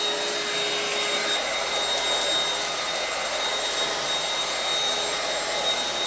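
A Bissell Featherweight cordless stick vacuum runs steadily on a bare floor, a loud constant whirring motor hum that stays level throughout with no speech.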